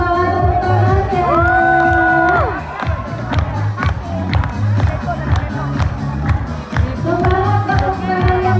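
An audience at a dolphin show at Safari Beach Batang cheers and claps in a dense, sustained wash of crowd noise, with an amplified voice speaking over it.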